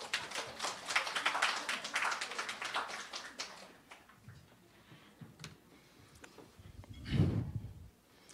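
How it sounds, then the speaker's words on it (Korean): An audience at a library presentation claps, a quick patter of many hands that thins out and fades over a few seconds before scattered faint taps and a dull thump. "큰 박수 부탁드립니다."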